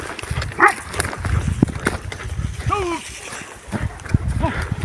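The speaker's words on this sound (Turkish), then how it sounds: "Bizim köpekler de aşağıdan avlıyor." Hunting dogs bark and yelp repeatedly outdoors during a boar hunt, some a little distant, in uneven bursts while people call out between the barks.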